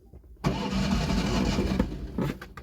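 A 1970 Fiat 500L cranks on its starter lever without catching, a close, loud, churning mechanical whir lasting over a second that drops off, then a short second burst.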